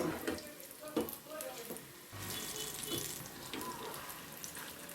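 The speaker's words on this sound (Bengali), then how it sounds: "এভাবে কাবাবগুলো সোনালি করে ভেজে নেবেন" Kebabs made from spinach fry in hot white oil, giving a steady, close crackling sizzle that fills the whole stretch with a few louder pops and some faint background noise.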